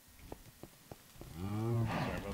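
Minecraft cows on a game server: a few soft footstep-like taps, then a single drawn-out moo, fairly close and clear with no talking over it.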